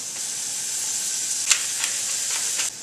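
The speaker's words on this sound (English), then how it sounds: "I don't want too much sizzling, so I'm going to turn it down and kind of swirl" Onions sizzle steadily in a hot pan, a continuous bright frying hiss with a few faint pops and crackles, close and alone without talk.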